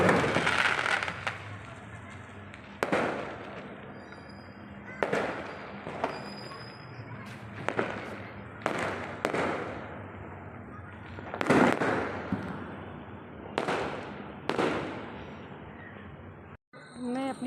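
Diwali firecrackers and fireworks bursting all around outdoors, a steady run of sharp bangs and crackling pops at irregular intervals, some near and loud, others farther off, over a constant background hum.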